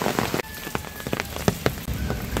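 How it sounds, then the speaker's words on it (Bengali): Light drizzle patters steadily on surfaces at a farm in Chintamon village, Fulbari, Dinajpur, with close, scattered drop taps over a soft continuous wash of rain. "দর্শক, ঝিরিঝিরি বৃষ্টি পড়ছে দেখছেন।"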